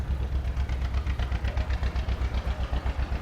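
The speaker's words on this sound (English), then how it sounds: "they've been sitting there for an hour with that tractor running over there. That thing's loud." Tractor engine running at a gas and steam engine show, a steady loping idle with rhythmic low-pitched pulses, fairly near and alone.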